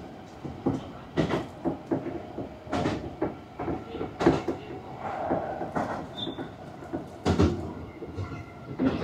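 A train pulls into a terminal station in Japan, wheels clacking and knocking in irregular bursts over a steady rumble, with faint squeals as it slows.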